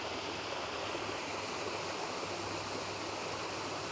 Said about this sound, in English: And here is above the waterfall.